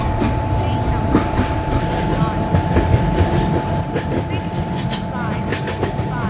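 A long high-speed express train passes at about 140 km/h near a station platform, a loud continuous rumble and clatter of wheels with repeated rhythmic clicks throughout, a steady tone running underneath.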